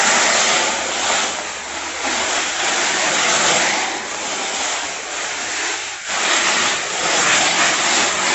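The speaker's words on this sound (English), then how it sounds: "You have to kink the hose a little bit because there's just too much pressure coming out." High-pressure water spraying from a kinked garden hose inside a greenhouse: a loud, dense, continuous hissing rush of spray with slight surges and one brief dip, no talk.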